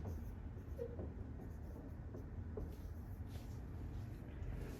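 A pen writing on a tablet screen during a math lesson about a tank draining from 175 gallons, giving faint, steady scratchy strokes under a low constant background hum with no talking.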